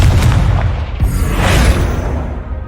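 In Hogwarts Legacy, a Confringo fire spell bursts in a loud, booming blast with a deep low rumble and a hissing crackle that fades over a few seconds.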